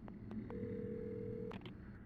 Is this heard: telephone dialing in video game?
yes